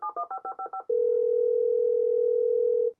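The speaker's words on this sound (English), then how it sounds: "hear plenty of modems get online" A dial-up modem line being dialed on a homelab phone setup: a quick run of about eight touch-tone beeps followed by a steady, continuous tone lasting two seconds, clear and close with no talk.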